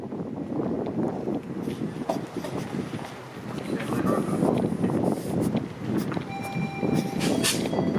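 An eastbound train to Oshawa rumbles past close by on the Toronto waterfront, a steady broadband roar with some high metallic squeals, while voices murmur underneath.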